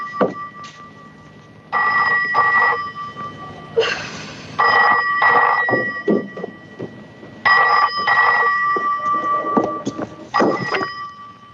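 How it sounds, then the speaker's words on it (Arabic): An old landline telephone in an Egyptian film rings in repeated bursts, loud and close, with short gaps between rings and some soft knocks in the pauses, and no voices. "التليفون"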